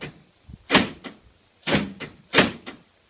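Central locking actuator on the rear passenger door of a Nissan GQ Patrol, cycling with a series of short, sharp mechanical clunks: a few bursts, each paired with a faint click, close and fairly loud.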